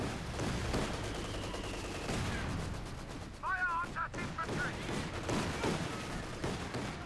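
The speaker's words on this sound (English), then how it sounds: "Quite a bit of auto cannon fire there being directed in towards the house there, plus of course the incendiary grenade" In a Company of Heroes 2 battle, auto cannon fire rakes a house and an incendiary grenade goes off, with repeated sharp bursts and rumbling impacts heard under a commentator's voice.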